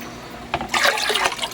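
Dirty runoff water from a cleaned air conditioner is poured out, a loud gushing splash that lasts about a second and then trails off, with no talking.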